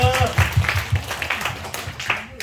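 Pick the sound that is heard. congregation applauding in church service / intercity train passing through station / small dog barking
congregation applauding in church service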